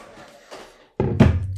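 A hair dryer switches on close by partway through to dry a watercolour painting on paper, its loud steady whoosh following a few faint rustles and taps.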